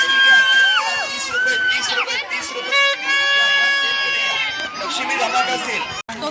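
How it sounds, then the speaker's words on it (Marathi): A dense crowd at the Chandika Devi temple fair in Panderi fills the air with loud overlapping voices, shouting and shrill tonal calls, a continuous close-by festival din. "आता मोठ्या प्रमाणे गर्दी होत आहे"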